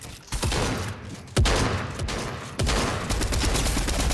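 Three loud, close gunshots ring out in a Fortnite arena match, spaced roughly a second apart, each a sharp crack trailing into a dense, lingering roar of reverberation.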